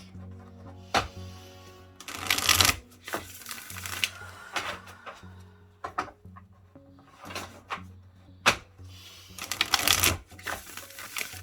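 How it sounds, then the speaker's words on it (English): A tarot deck is shuffled by hand in repeated riffling bursts with soft card taps and flicks between them, close and clear with a low steady hum underneath. "take a few deep breaths while I shuffle this and really put my energy into these cards"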